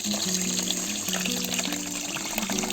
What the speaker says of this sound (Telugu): ఇందులో మనము వాటర్ పోసుకొని